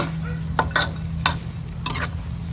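Shrimp stir-fried with freshly picked holy basil in a pan, a steady close sizzle broken by several sharp scraping stirs of the spatula, with a low hum underneath.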